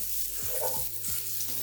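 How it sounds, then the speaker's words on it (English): Onions sizzling in olive oil in a hot pan, a steady close frying hiss with a few soft stirring scrapes over it, no voices. "Now we're going to add some olive oil to fry the onion. Add our onions."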